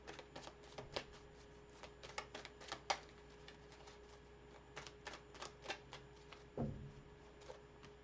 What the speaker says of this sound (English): so let's pull a few cards on that